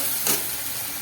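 Bottle gourd boiling in a pot on a Bengali kitchen stove, a steady bubbling hiss with one brief louder surge of steam, heard close with no talk.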